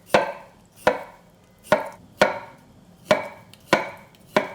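Knife chopping radish into bite-sized, half-inch-thick pieces on a board: seven sharp, close thuds spaced about half a second apart, each with a short woody ring, no talking.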